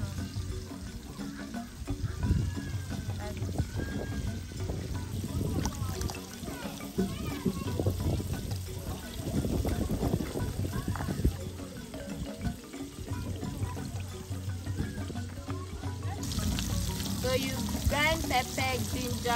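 Water splashes and pours while garlic and ginger are washed in an African village kitchen in Ghana, a steady close trickle under frequent talk.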